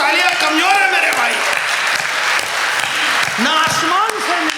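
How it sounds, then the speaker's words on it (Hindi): An audience at a Hindi comic poetry recital bursts into loud, dense applause, mixed throughout with cheering and voices. "क्या आपकी तालियां कमजोर है मेरे भाई"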